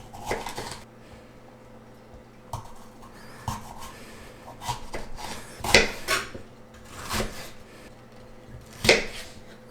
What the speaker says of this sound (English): Cutting out the core for the red pepper.